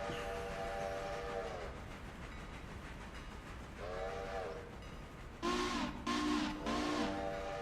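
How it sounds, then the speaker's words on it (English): A passing train on a railway line sounds several loud horn blasts, the last three close together in short repeated bursts, over a steady rumble of rail noise. "that passenger train's going to want to go now, too"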